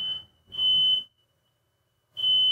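Smoke alarm in a home going off while dinner burns, sounding a loud, steady high-pitched beep in long repeated pulses with silent gaps between them and faint low noise underneath.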